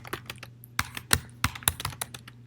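Irregular bursts of clicky keystrokes come from a computer keyboard, close and crisp, with short pauses between the quick taps.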